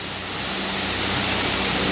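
Waterfall at DeSoto Falls in Chattahoochee National Forest, a loud, dense, steady roar of falling water filling the space, close by and continuous with no other sounds.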